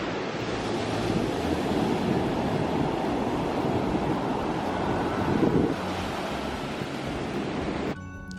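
Waves roll onto the sand at Carolina Beach in a steady, full roar of surf mixed with wind buffeting the microphone. The wash eases slightly near the end.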